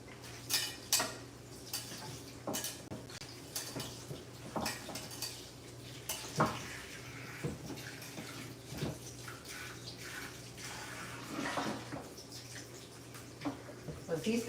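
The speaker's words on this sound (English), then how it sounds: "let me rinse my potatoes real quick" Dirty potatoes rinsed under running water in a kitchen sink, with splashing, intermittent knocks of potatoes against the basin and clattering dishes, close and fairly quiet.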